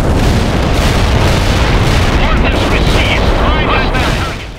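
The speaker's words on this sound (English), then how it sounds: "these explosion effects still look, sound, and feel fantastic" Continuous heavy artillery and bombing explosions from the real-time strategy game World in Conflict, a dense loud barrage of booms and blasts with overlapping gunfire-like cracks, fading out at the end.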